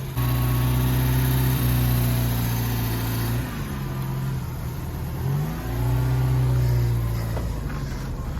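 Car engine idling steadily while warming up, with a low droning hum and a couple of brief revs that rise and fall in pitch, close by and continuous, with no talking.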